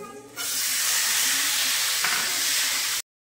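Sliced radish frying in hot oil in a pan in a home kitchen, a loud, steady hiss and sizzle that starts suddenly and runs unbroken before cutting off.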